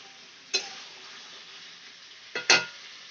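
Chicken darvesh cooking in a pan over a low gas flame, a soft steady sizzle broken by two brief scraping stirs of a spatula, with no voices.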